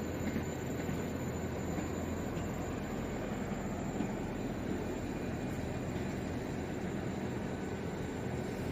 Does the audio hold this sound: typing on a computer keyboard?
no